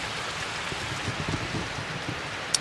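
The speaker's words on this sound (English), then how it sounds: "Rain did come on, quite heavy rain" Heavy rain falls steadily on a tent at a solo overnight wild camp in a forest, a continuous close patter with a few louder drops and one sharp tap near the end, and no voices.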